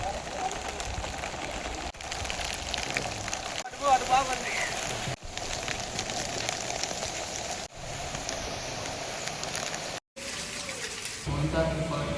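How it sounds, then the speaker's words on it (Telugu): Steady rain from cyclone Montha falls continuously on surfaces, a dense hiss with light patter throughout and brief interruptions. "మనకి నిన్న నైట్ నుంచి కాన్స్టెంట్గా వాన పడుతూనే ఉంది"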